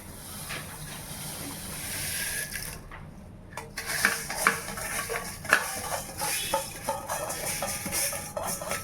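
Soaked rice going into mutton gravy for biryani and being stirred, with wet scraping and sloshing under a soft sizzle, close and moderately loud, with small clinks near the end and no talking.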